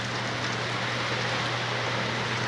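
Dense, steady hiss of heavy rain falling in rainy weather, a continuous even wash of noise with no breaks and no voices.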